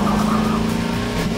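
A car in the Garry's Mod video game drives with a loud, steady engine drone, tires hissing slightly over the short, continuous pass, with no voices.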